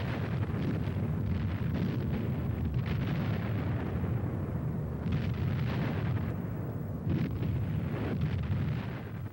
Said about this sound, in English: The aerial camera locates an open V-1 site just before concentrated bombing of the B-26s destroyed it